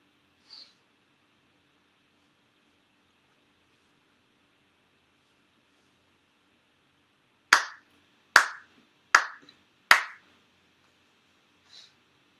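Four sharp ritual hand claps at a Shinto shrine ceremony in Chula Vista ring out one after another in an even, measured rhythm, close and clear in a quiet room with no talk.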